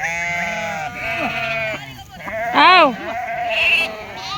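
Ewes bleat loudly and repeatedly close by, calling for their lambs, their wavering calls overlapping one another with little pause.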